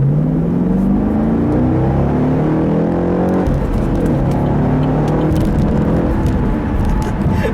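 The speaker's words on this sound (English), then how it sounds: "And we'll do a little acceleration here" A 2015 Chevrolet SS sedan with manual transmission revs up under load, pitch climbing steadily, drops briefly at a gear change, then pulls again with a loud rumbling drone inside the cabin.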